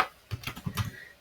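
Quick burst of computer keyboard typing, several crisp key clicks in an irregular rhythm, close and alone against a quiet background.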